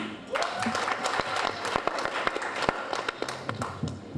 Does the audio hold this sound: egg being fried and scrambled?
no